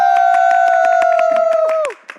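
A crowd at the MPL Arena esports match claps in quick rhythmic bursts, heard under a loud sustained tone that glides down and cuts off, leaving a faint final clap.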